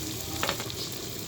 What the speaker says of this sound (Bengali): পেঁয়াজ কিছুটা দেবো, রসুন দিলাম, দিয়ে নাড়িয়ে দেবো, কাঁচামরিচ